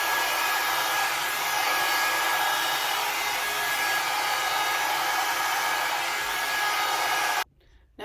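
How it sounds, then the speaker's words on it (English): A hot brush blow-drying a wig's hair gives a loud, steady whoosh of blown air that runs for about seven seconds, then cuts off abruptly near the end. "I am going to use my hot brush just to blow the hair back and away from my face."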